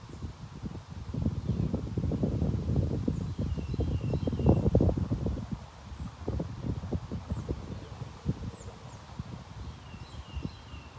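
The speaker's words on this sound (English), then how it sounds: "Can you hear the wind?" Wind gusts rush and buffet across an open field, building to a stronger stretch in the middle before easing, with faint birds chirping high in the background.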